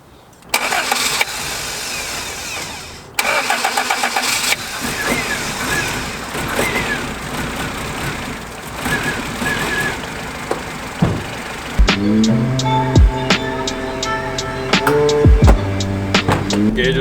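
A cold turbo Honda Civic with a new starter cranks and fires, then runs unevenly with revs rising and falling before settling into a rough idle, close and loud.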